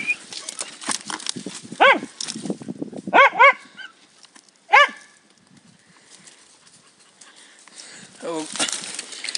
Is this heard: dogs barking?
yes